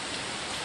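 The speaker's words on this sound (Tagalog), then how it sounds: "lakas pa rin yung ulan, malamig, very wet yung hangin." Heavy monsoon rain pouring steadily outdoors in a foggy mountain city, a dense, loud and continuous hiss with no break.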